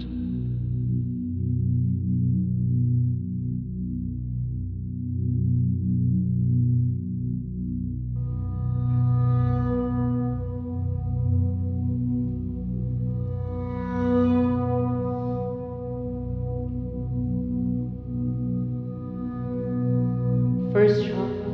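Sustained low, resonant root chakra meditation drone tones layered with swelling harmonic overtones, slow and steady, with a bright chime near the end.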